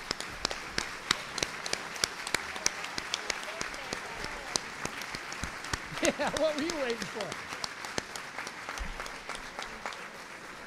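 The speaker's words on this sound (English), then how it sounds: "give them a round of applause for the great work that they do" Applause at a bar association luncheon, dense and sustained throughout, with someone speaking briefly under the clapping partway through.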